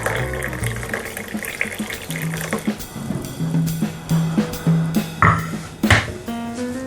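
Hot Moroccan mint tea pours and trickles into a cup with rising, bubbling tones, punctuated by light clinks and taps of dishware close by.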